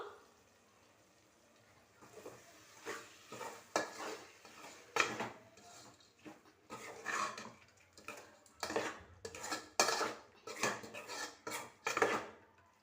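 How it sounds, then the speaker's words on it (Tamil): Basmati rice is stirred and fried in a pot for chicken biryani, with a spoon scraping and clanking against the metal in irregular bursts over a soft sizzle. "இதையும் நல்லா வதக்கிக்குவோம்."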